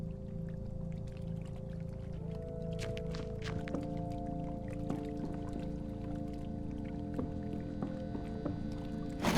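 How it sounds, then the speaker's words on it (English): Petrol sloshes at the bottom of a shaken fuel can in the video game The Drifter, soft liquid swishes and splashes over a quiet, steady music bed. "I shake the can, slosh of petrol at the bottom."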